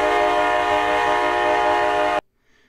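Steady locomotive horn chord held loud and unbroken for about two seconds, then cut off abruptly into near silence.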